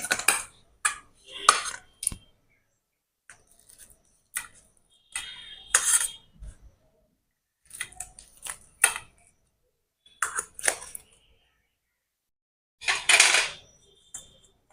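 A knife cuts through a homemade crisp snack made from a cup of flour with egg inside, giving short, dry crunching and tapping strokes in several separate bursts, close and moderately loud, with no talking.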